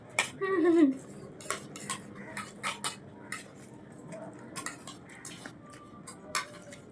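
Metal spoon scraping leftover chowmein off a plate during an eating challenge, making a quick series of close, sharp clinks and scrapes in an irregular rhythm.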